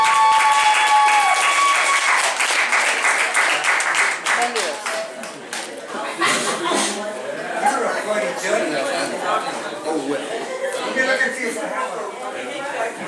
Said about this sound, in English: A thunderous applause for the legendary John Clifton.